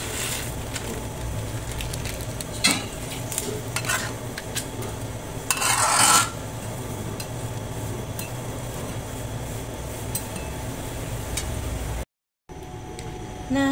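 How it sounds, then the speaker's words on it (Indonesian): Noodles are dropped into a pot of boiling water and stirred, giving scraping, clinking pot-and-utensil sounds over a steady bubbling hiss, with one brief louder burst midway. "Dan airnya udah mendidih, aku masukin mie-nya."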